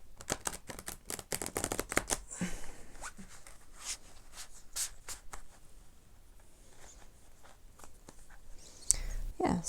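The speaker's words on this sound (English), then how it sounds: "let's see if we can do a quick riffle shuffle" A riffle shuffle of semi-matte tarot cards: a rapid flurry of crisp flutters at first, then scattered quieter card taps and handling noises, close up.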